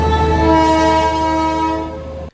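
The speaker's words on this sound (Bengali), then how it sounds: "হুস হুস শব্দ করে চলে আসছে শিলিগুড়ি থেকে দার্জিলিংগামী একটা টয় ট্রেন" A Darjeeling toy train running from Siliguri toward Darjeeling blasts its horn loudly and close, one steady tonal note held for about two seconds before cutting off abruptly.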